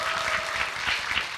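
Audience applause at a Korean actor's talk event with fans, dense, steady clapping from a crowd filling the whole short stretch with no voices over it.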